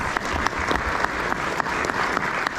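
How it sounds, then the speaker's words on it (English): Sustained applause from a seated audience at a congressional district candidate debate, a steady dense clapping that fills the whole stretch with no voices on top. "let's give her a round of applause"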